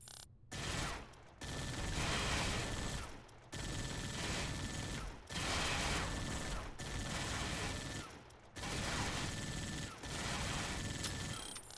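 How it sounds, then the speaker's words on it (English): A turret fires in Halo: Spartan Assault in long sustained automatic bursts, loud and continuous, broken by short regular pauses between bursts, with a steady high whine running underneath. "You can fire the turret by pressing and holding right trigger."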